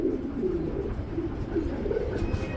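Pigeons at a farm loft coo steadily in soft, repeated low murmurs, several birds overlapping nearby in a continuous gentle rumble with no talk.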